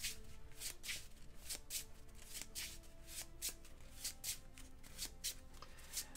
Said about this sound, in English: 1-2-3-4, and we need to shuffle.